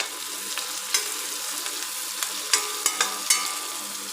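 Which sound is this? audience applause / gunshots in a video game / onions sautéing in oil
onions sautéing in oil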